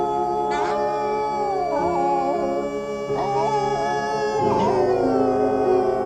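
Dogs in a run-down cartoon dog pound from a Disney film howl mournfully in overlapping, sustained wails, loud and continuous, with a swelling chorus toward the end.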